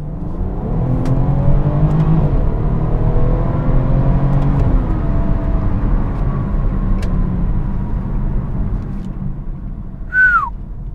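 A Dinan-tuned turbocharged 2016 BMW 340i xDrive with over 400 bhp revs and pulls through rising gears, heard from inside the cabin, a steady droning climb with a brief whistle near the end.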